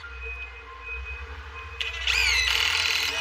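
A power drill drives screws into a fascia board, its motor rising into a close, whining high-pitched spin after a quieter stretch of outdoor background noise.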